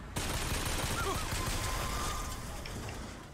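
Gunfire from the video game BioShock Infinite, a dense crackling fusillade of rapid shots held at steady loudness for about three seconds, with faint whistling tones and a hint of voice underneath.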